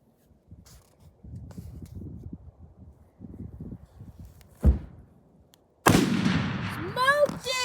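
A rifle shot fired at a bull elk on a hunt cracks loudly once, breaking out of quiet outdoor murmuring and rustle, followed by an excited voice shouting right after the blast.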